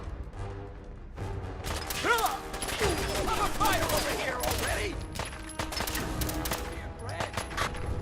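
Gunfire in the video game Fallout 4, a sustained rattle of rapid shots and impacts lasting several seconds, with game voices talking over the din.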